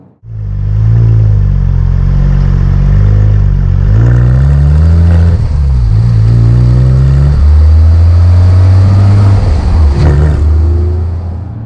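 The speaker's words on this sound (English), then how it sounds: "This makes a nice noise. It's noisier than the 911R." Porsche 911 GT3 with a manual gearbox revving and accelerating hard, its loud engine note climbing through the revs, dipping briefly at gear changes and rising again, close and continuous with no talking.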